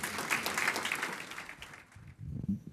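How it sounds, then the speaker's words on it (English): Audience applause at a South African Medical Research Council awards evening, a burst of clapping that thins out and fades within about two seconds, followed by a brief low sound. "Please give him a round of applause."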